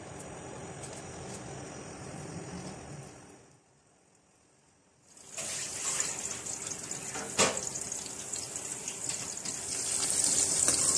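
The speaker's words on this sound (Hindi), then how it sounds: "इस गर्म ऑयल के अंदर बॉल्स उठाते जाएंगे और फ्राई करते जाएंगे" Chicken balls frying in hot oil in a kadai give a steady hiss and crackle that fades to near silence for about a second, then returns louder and denser with a few sharper pops, close by.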